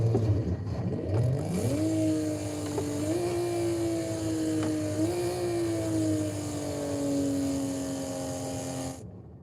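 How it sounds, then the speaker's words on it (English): A car engine revs up by itself with no one pressing the pedal, its pitch climbing and holding high in steady surges for several seconds, loud and close with no talking over it. "Why is this thing revving up on its own?"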